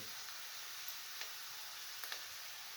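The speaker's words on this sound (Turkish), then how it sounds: "Soğan ve sarımsağın sotelenirken bakın buraya." Onion and garlic sauté in oil in a pan, a steady close hiss of sizzling with a few faint ticks and stirring taps, no talk.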